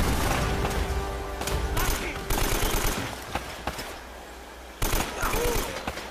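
Gunfire from the video game Uncharted: Drake's Fortune, a rapid burst of shots followed by scattered single reports and a second volley, loud and close with game noise between the blasts.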